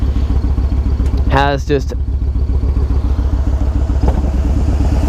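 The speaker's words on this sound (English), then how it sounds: "this Raider 113 Raider, this bike is a lot of fun. It's a 1900cc bike." The engine of a 1900cc Raider 113 motorcycle runs at a loud, close, steady throbbing idle on a rainy ride, with a brief bit of speech over it.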